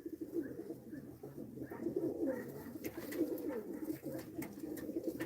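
Pigeons coo softly and repeatedly in a loft, low throaty rolling calls overlapping through the whole stretch, fairly faint with a quiet background and no talk.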